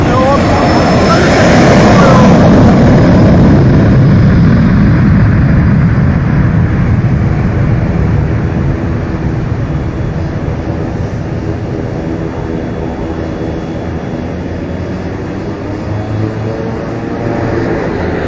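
A private jet's engines roar loudly at takeoff, a sustained heavy rumble with a high whine that eases slightly as the aircraft pulls away, while someone talks over it.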